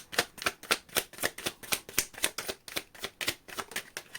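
Oracle cards are shuffled by hand in a quick, regular riffling rhythm of soft crisp slaps, close up and fairly quiet, with no talking.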